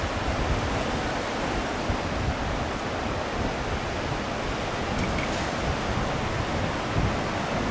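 Continuous broad wash of surf and wind at a beach in St Ives, Cornwall, loud and steady with no distinct breaks, no voices.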